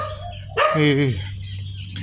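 A dog barks once, loud and close, with a short yelping tail, against the low steady hum of a quiet street in Seminyak, Bali; the rest is calm background.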